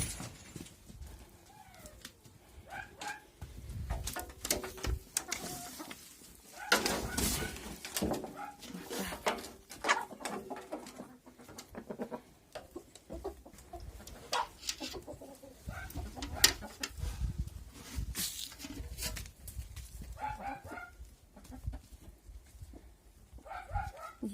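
Backyard chickens peck at a pile of freshly pulled grass, with soft clucks and bird calls around them and a dog barking now and then, all fairly quiet with light outdoor background noise.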